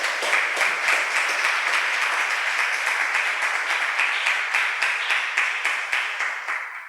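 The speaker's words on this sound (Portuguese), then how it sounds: "Aplauda ele." A church congregation applauds in praise, many hands clapping in a steady, rhythmic beat that stays loud and even before softening slightly toward the end.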